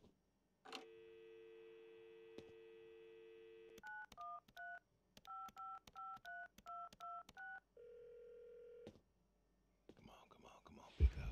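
Telephone in the video game Adios: a long dial tone, then a quick run of paired keypad beeps as a number is punched in, followed by a ringback tone and a faint voice.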